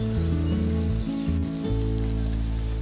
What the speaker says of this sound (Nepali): अर्को साइड फर्काइवरी पनि हामीले फ्राई गरिसकेका छौं, फ्राई गर्दै छौं